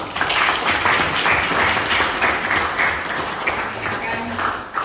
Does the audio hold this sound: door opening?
no